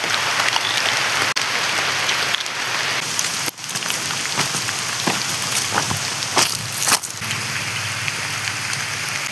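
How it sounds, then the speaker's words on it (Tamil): Steady rain pattering on leaves and surfaces in a mango grove with an okra garden, a dense continuous hiss with scattered louder drips, no voices. "மழை வேற பெய்யுது"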